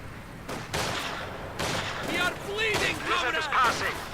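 Grenadiers fire Gewehr 43 semi-automatic rifles in a Company of Heroes 2 battle against conscripts, sharp shots coming in quick irregular bursts amid other battle noise, with someone commentating throughout.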